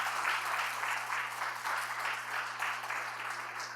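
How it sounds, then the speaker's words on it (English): Steady applause from a conference audience at a housing equality event honoring Renessa, a dense wash of clapping at moderate distance with a low electrical hum underneath. "Please, round of applause for Renessa"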